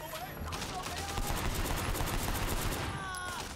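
Rapid gunfire from a gun in the Sleeping Dogs video game, dense bursts of shots filling the whole stretch with game effects around them, fairly loud and close.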